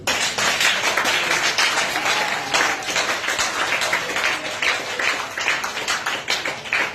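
A church congregation claps and cheers to acclaim Jesus during a Sunday service, a dense, continuous wash of applause with scattered voices mixed in.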